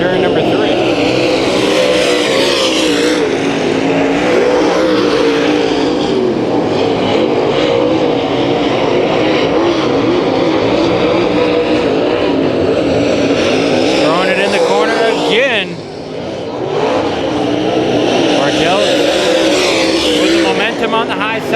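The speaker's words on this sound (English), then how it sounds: "Daly's car bouncing in turn number 3." Street stock race cars roar around a dirt oval at Kings Speedway during a heat race, loud continuous engine drone with rising and falling revs as cars pass, one car bouncing through a turn.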